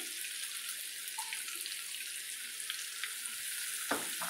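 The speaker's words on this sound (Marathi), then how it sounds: "कांदा छान परतून घ्यायचा आहे." Onion sizzles in hot oil while being sautéed, an even bright hiss that carries on throughout, with a brief knock near the end.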